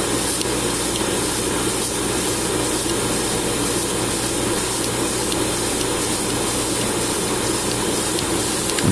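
Spray paint hisses in a steady, close, continuous stream as light coats go onto a Gundam model kit, an MG Sazabi Ka, with no talking.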